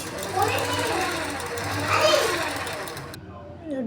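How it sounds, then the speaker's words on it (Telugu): A sewing machine runs in steady stretches, stitching lining onto the main cloth of a frock being remade into a new-cut top, with a brief pause mid-clip before it stops near the end. "మెయిన్ క్లాత్ మీద లైనింగ్ వేసి స్టిచ్చింగ్ అయితే స్టార్ట్ చేసా"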